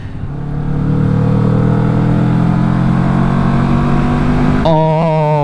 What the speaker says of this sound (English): They make bikes really quiet now, but dude, when you're accelerating, this 2-cylinder sounds very nice.